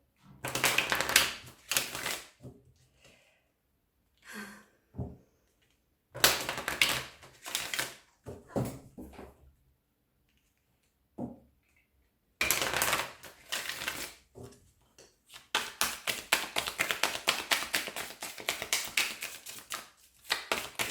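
Oracle cards being laid down and shuffled on a table during a tarot reading, crisp bursts of tapping and flicking separated by silences, close and fairly quiet.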